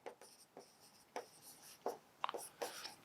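Chalk or marker strokes on a board during a definite integration maths lecture, a run of short scratchy taps and swipes in an uneven rhythm, close and fairly quiet, with no voice over them.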